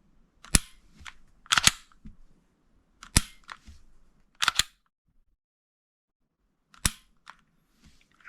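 A Canik Mete MC9 or Glock pistol trigger takes up and breaks, giving a series of sharp, close mechanical clicks in pairs and singles with quiet gaps between them.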